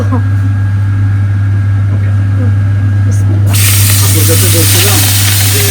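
Fish pieces frying in hot oil for a home meal: a loud, steady hiss of sizzling breaks in suddenly about halfway through and holds, over a constant low electrical hum.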